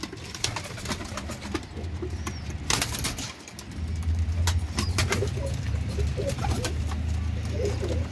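Flying pigeons kept for sale coo and flap their wings in a steady low murmur, with sharp flutters and wingbeats scattered throughout and a brief lull near the middle.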